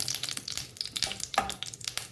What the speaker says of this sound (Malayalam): കണ്ട കടുക് പൊട്ടിക്കൊണ്ടിരിക്കണുണ്ട്